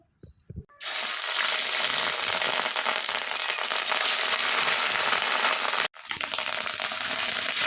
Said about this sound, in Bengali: এবার আমি প্রথমে মাছের ডিমগুলো ভেজে নেব